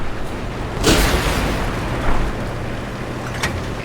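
A French heavy premium tank's 100mm gun fires in World of Tanks, a deep booming report with a sharp crack, followed by further thumping impacts and rumbling battle noise, loud and close.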